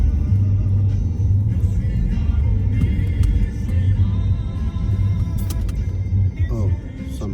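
A car drives through the narrow streets of Vozdovac in Belgrade, its steady low engine and road rumble heard from inside the cabin throughout, with a voice speaking over it.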